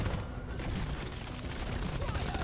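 Zukov pistol gunfire in Deep Rock Galactic, a steady stream of rapid shots blended with dense game noise and effects, continuous and fairly close throughout.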